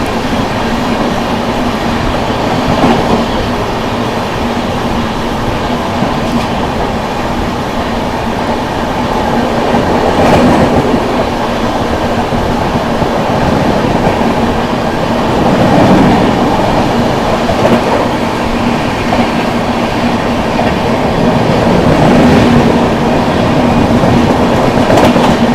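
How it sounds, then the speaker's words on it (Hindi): The 12417 Prayagraj Express, running from Prayagraj to New Delhi, overtakes the Kalindi Express on a parallel track. A loud, close, continuous rumble carries rhythmic wheel clatter and faint squeals, with no voices. "कालिंदी एक्सप्रेस का overtaking Prayagraj Bhiwani Kalindi express parallelly overtaking."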